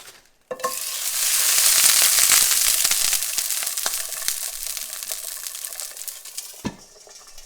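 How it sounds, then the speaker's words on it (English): Sausage patties dropped into hot oil in a pan, a sharp clatter at the start giving way to a steady, loud sizzle that fades gradually toward the end, with a few pops and a clunk near the close. "Just got a hot pan, throw in some oil. Here are the sausage patties."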